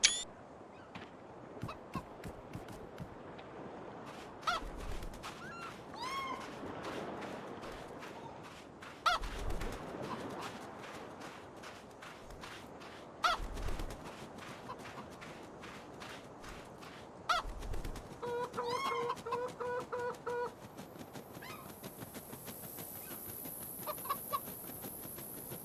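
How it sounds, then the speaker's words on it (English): Chickens clucking in the video game Minute of Islands, recurring bursts of fowl calls over a steady ambient game backdrop, with a sustained tone entering near the end; no talking. "These are really good chickens, yeah."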